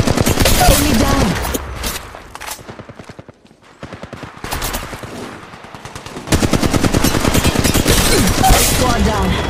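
Rapid automatic gunfire in a video game firefight, loud and close, with dense bursts of repeated shots, a brief lull in the middle, then a long sustained volley to the end; no talking over it.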